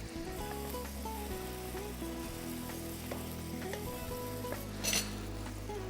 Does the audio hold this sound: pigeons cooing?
no